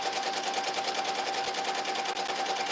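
A sewing machine runs at a steady, fast clip stitching a minky baby blanket, an even mechanical whir with rapid needle rhythm and no talking.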